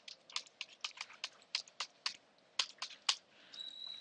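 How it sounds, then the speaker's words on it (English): Someone types a command on a computer keyboard while installing SuiteCRM on CentOS. A quiet run of about a dozen crisp key clicks comes in an uneven rhythm, with no voices. "Type the command, after that hit enter."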